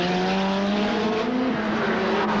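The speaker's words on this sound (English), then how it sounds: "Listen to for yourselves to the engine of his Ford Sierra Cosworth" A Ford Sierra Cosworth Group A touring car races at a 1987 Grand Prix support event, its turbocharged engine droning loud and continuous with a slowly rising pitch.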